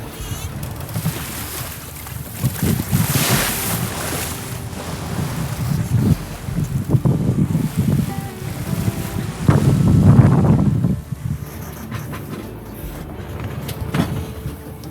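Wind rushes over a sailboat at sea in light breeze, a continuous buffeting roar with gusty swells and splashing water, steady and close throughout with no talk.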